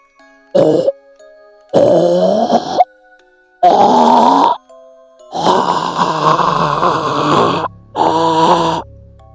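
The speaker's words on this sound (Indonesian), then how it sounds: "muncul suara seperti seseorang yang tercekik hingga napasnya seperti napas yang terakhir" Close, strained choking and gasping noises come in five rasping, throaty bursts separated by short silences.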